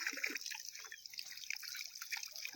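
Water drips and trickles from a pipe in a village garden, a faint, continuous patter of small droplets close by, with no talking.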